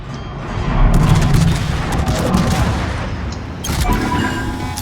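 Heavy, overlapping booms and gunfire from the Tier X heavy cruiser Castilla firing its main guns in World of Warships, a dense, loud, sustained barrage with a fresh burst of blasts near the end.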